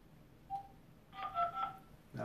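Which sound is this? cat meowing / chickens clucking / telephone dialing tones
telephone dialing tones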